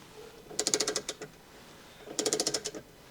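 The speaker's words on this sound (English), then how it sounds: "And you can hear it ratcheting there." Ratcheting wrench on an RV step stabilizer kit, two short bursts of rapid clicking, each about half a second long and separated by a pause, close and fairly quiet.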